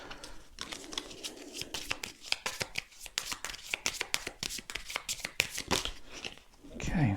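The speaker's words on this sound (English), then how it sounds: "We have 3 cards, so we need to shuffle" Cards for the Undaunted North Africa board game being shuffled by hand, a rapid run of crisp riffling snaps and slides close up on a tabletop, with a voice talking over part of it.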